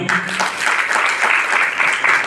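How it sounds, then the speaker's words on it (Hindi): An audience at an anniversary celebration and business plan presentation breaks into a short, loud burst of clapping that stays close and steady for a couple of seconds. "एक बार जोरदार तालियां।"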